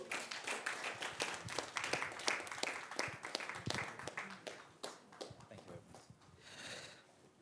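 Audience applause after a keynote speech at the Thrive100 Passion to Profit business event: dense, uneven clapping from a crowd, sustained and fairly loud for several seconds before thinning out near the end.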